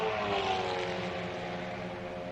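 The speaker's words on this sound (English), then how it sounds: "The low rumble of the AMG engine, carry over from the SLS." A Mercedes-AMG GT race car engine, carried over from the SLS, idles with a low, steady rumble on the jacks in a pit stop at Monza, holding an even, moderately loud drone throughout.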